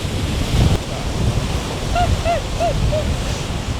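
Strong storm wind buffets the microphone in a steady roar, with surf rumbling beneath and a few faint birdlike cries drifting through, on a winter seashore.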